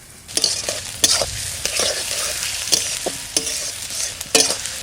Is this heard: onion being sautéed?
yes